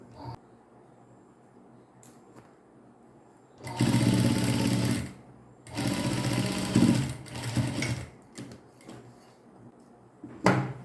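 A sewing machine stitches along a pant seam in two main bursts of close, loud, rapid whirring with pauses in between, followed by a brief last run of stitching and a few clicks.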